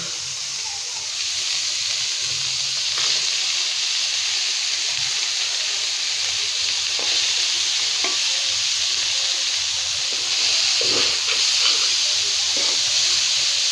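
Leafy winter greens go into a hot frying pan, giving a steady, close hiss and sizzle throughout, broken by occasional clinks and scrapes of stirring.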